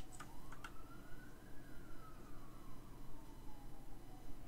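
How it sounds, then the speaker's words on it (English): A single emergency siren wails faintly in the distance, its tone slowly rising and then falling, over a low hum with a few light clicks near the start. "technically now you can hear sirens"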